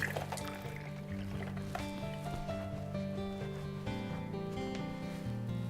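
Water runs from a faucet while hands are washed with bar soap at a sink, a continuous close splashing trickle with shifting tones as the flow is interrupted.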